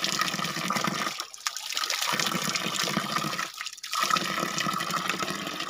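Very cold water streams steadily from a hillside source in the mountains, a loud continuous broadband rush that briefly drops away twice, as if the flow is interrupted.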